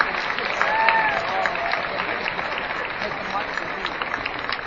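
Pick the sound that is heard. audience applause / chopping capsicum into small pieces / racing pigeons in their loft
audience applause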